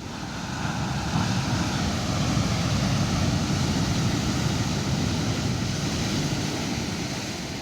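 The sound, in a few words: ocean waves on the shore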